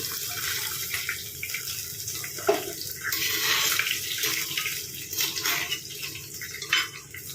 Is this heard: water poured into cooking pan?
yes